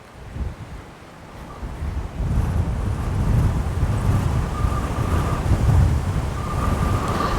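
Strong wind buffets a microphone outdoors on Kingsdown Beach in a steady, roaring rush that swells louder partway through, with no voices.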